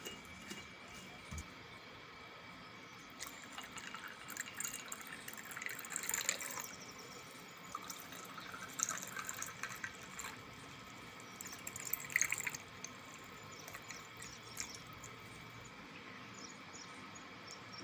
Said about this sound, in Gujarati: હવે આપણે ઠંડુ પાણી નાખશું